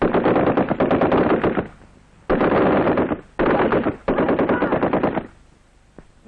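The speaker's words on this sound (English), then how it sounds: "This weapon, the light machine gun, is one that every man in an Indian regiment is taught to handle." A light machine gun fires three long, loud, rapid bursts close by, each lasting over a second, separated by short pauses, during Indian Army regiment training.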